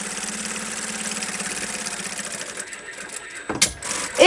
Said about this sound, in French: Alors j'y vais avec un pied de machine, hein, tout à fait, et puis toujours avec mon petit point serré de 2. Je couds le fond.